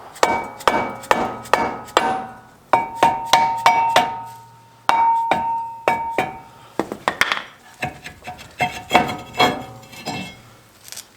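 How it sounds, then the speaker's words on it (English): Repeated sharp dead blow hammer blows strike a Chevy Suburban brake rotor to loosen it, ringing slightly, in irregular bursts of several taps with short pauses between them. "Now I'm going to use a dead blow hammer to try and get the rotor off."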